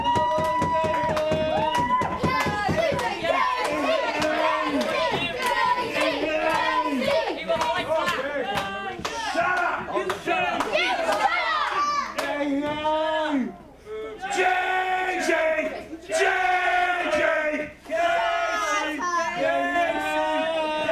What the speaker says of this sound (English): Crowd really not a fan of Bully J